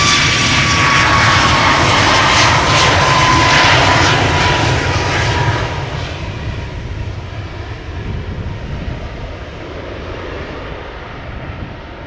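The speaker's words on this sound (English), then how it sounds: "I'm hearing the APU of the approaching airplane from the main platform area" An airplane auxiliary power unit hums at Amsterdam Schiphol Airport, a loud, steady engine roar with a faint high whine that slowly fades over the span, with no voices.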